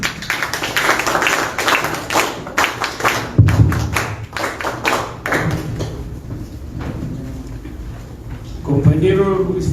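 An audience at a political party's district committee gathering claps in scattered, uneven bursts while a voice speaks over it through a sound system.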